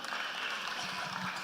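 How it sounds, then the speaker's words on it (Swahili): Applause at a live Kikuyu church service: a crowd claps in a steady, dense patter, fairly near and moderately loud, for a brief stretch. "Tumpigie makofi"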